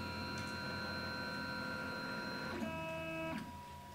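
A Flashforge Dreamer 3D printer runs its stepper motors during build plate leveling, giving a steady, close electronic whine of layered tones that shift pitch as the head moves to the next point, then stops.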